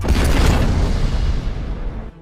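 Tank cannon fired at German soldiers in a film about a T-34 tank. One loud, close blast booms and then rumbles away over about two seconds before cutting off.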